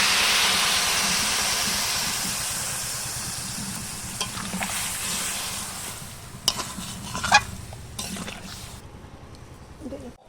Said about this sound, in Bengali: এই যে কুমড়োর তরকারিতে আমি এবার জল দিয়ে দিচ্ছি